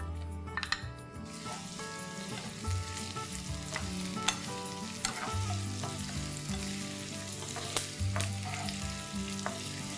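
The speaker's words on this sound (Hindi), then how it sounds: "इसमें 2 लंबे कटे हुए प्याज डालेंगे तेल में।" Two long-sliced onions fry in hot oil in a small tempering pan for dal gosht, a loud, close, continuous sizzle full of crackles, with occasional stirring scrapes against the pan.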